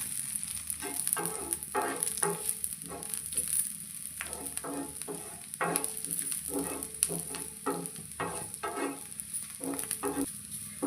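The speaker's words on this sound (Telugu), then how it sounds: "కనీసం దీన్ని ఒక ఇరవై నిమిషాలన్నా ఈ ఉల్లిగడ్డలని పెంక మీద అయితే వేయించుకోవాలి" Onions frying on an iron pan over a medium flame, a low steady sizzle with repeated scraping strokes of a spatula in a regular rhythm, close and fairly quiet.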